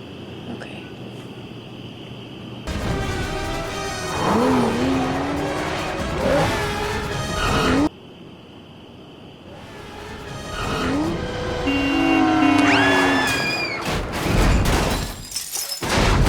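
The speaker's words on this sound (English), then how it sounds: "Whenever there is a chance in an action movie, cars get wrecked, damaged and blown to smithereens." Action-movie car crash scenes cut together: engines rev, tires squeal, and glass shatters in loud bursts, with short abrupt cuts between the scenes and some dialogue and music mixed in.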